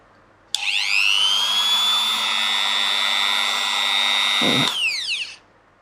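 NEW BOLIC budget angle grinder switched on: a sharp click, then a steady high-pitched whine that holds at full speed for about four seconds before it is switched off and spins down, close and loud, no talking.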